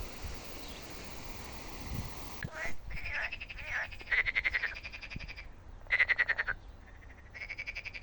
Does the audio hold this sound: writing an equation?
no